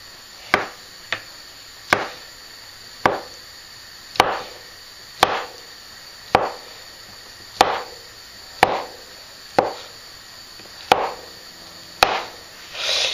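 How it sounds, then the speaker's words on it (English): A knife slicing through a block of feta cheese on a cutting board for a cold pasta dish, about a dozen crisp, evenly spaced chops, each one close and distinct, with no talking over them. "And then just slice it, not too thin"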